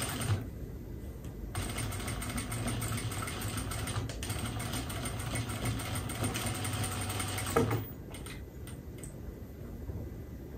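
A sewing machine back tacking decorative braid trim onto a pillow during professional pillow fabrication, running in a steady rapid stitching hum for several seconds before stopping, with lighter clicks afterward.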